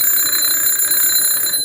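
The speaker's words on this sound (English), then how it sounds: "This bell makes a sound like this." An electric alarm bell for a bell jar sound demonstration rings loudly and continuously, a bright, rapid metallic trill that stays steady throughout with no voices.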